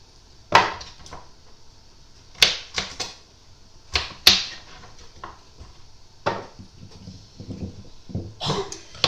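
A knife cutting through bread on a board for a Moroccan pepper dish, a series of sharp, separate chopping knocks at irregular intervals, close and fairly loud, with quieter scraping in between.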